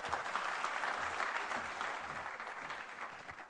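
Conference audience applause fills a hall at the Merck Foundation Africa Asia Luminary 2025 conference in Banjul, The Gambia; dense, steady clapping from many hands, close and loud throughout, easing slightly toward the end.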